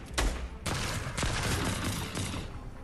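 Rapid bursts of video game gunfire, several loud close volleys of automatic shots crackling one after another, with short gaps between them.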